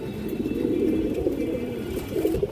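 A large male Indian high-flyer pigeon cooing in low, continuous throaty murmurs, fairly close and steady across the whole stretch with no talk.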